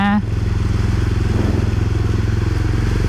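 Honda CBR300R motorcycle engine under steady throttle while overtaking during flooding from a tropical storm, a loud continuous drone with a brief rising tone at the start, close and constant throughout.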